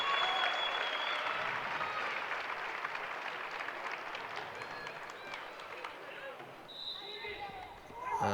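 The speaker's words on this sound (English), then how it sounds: "And the Spartan supporters stand and applaud him off the pitch." Spartans FC supporters at a youth football cup final stand and applaud a departing player, a steady broad wash of clapping throughout, fairly distant, with crowd noise and a commentator talking over it.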